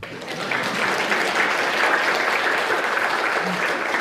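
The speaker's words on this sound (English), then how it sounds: "You should clap" An audience at a spiritual talk breaks into steady, dense clapping that swells within half a second and holds evenly to the end, filling the hall.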